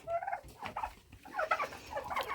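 Turkeys gobble in a run of quick, warbling bursts, fairly close and loud, with a short pause midway before several more gobbles follow.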